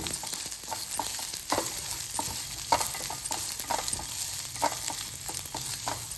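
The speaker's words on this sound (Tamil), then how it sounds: "இஞ்சி துருவலும் பச்சை மிளகாயும் சேர்த்துடலாம் பச்சை வாசனை போகிற வரைக்கும் கொஞ்சம் வதக்கி விட்டுடலாம்" Onion, grated ginger and green chilies sauté in a pan for tomato aval upma, a steady close sizzle overlaid with repeated scraping stirs at a fairly even pace, with no one speaking.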